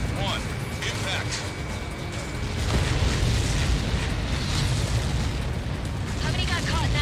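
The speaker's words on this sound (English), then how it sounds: "How many got caught in that explosion?" A missile explosion in the video game Ace Combat 7 rumbles as a dense, sustained roar with a swelling deep boom midway, loud and close, with voices heard over it.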